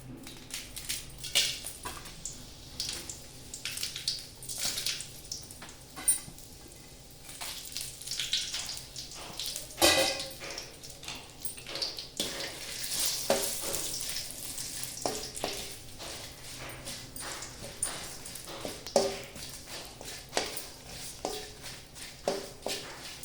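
Dried red chillies broken into pieces frying in hot oil with cinnamon sticks, giving a steady crackling sizzle with scattered pops and stirring scrapes, fairly close and without talk.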